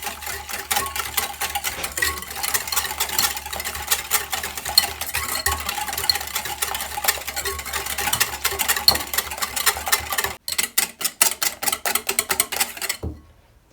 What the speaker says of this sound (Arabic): نطربوا السنيده مع البيض